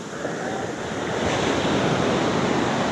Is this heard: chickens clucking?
no